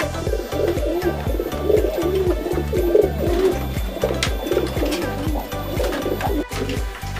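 Pigeons in a coop coo steadily and repeatedly, with overlapping low throaty calls forming a continuous rhythmic chorus close by and fairly loud, with no talking.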